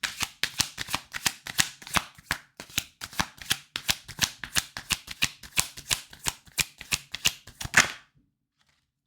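Osho Zen tarot cards are shuffled by hand in a steady, rapid riffle of crisp flicks for about eight seconds, close and fairly loud, then the sound stops and silence follows.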